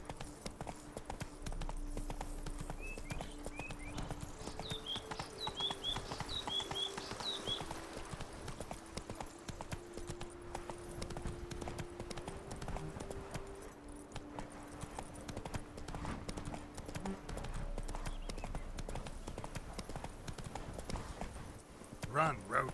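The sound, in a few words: horse (Roach) galloping, hooves clip-clopping, in The Witcher 3 video game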